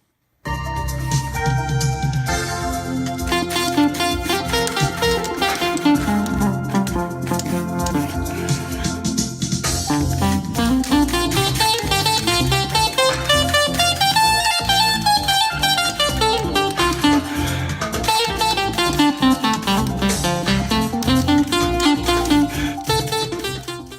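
A reedy wind synthesizer on an iPad Pro plays a gliding melody over a full backing track, sustained notes bending up and down for a long, loud stretch.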